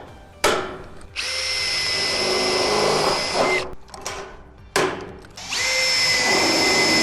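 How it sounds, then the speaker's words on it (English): A power drill whines at high speed in two long bursts while drilling a metal shed downpipe for rivets, separated by short clicks and pauses, close and loud. "So just drill and rivet"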